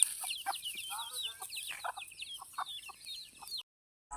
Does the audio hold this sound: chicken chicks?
yes